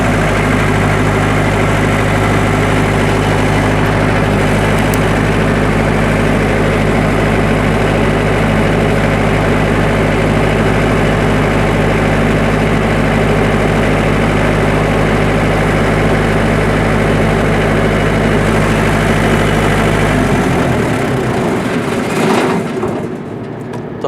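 A diesel generator engine runs at a loud, steady idle with a deep low rumble that holds for about twenty seconds, then drops off near the end as the running note changes.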